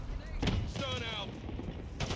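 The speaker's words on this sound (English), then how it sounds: "Stun out!" A stun grenade goes off during a Call of Duty Black Ops multiplayer match, a loud broadband burst near the start followed by a ringing tonal whine and game noise, with further bursts near the end amid battle sound.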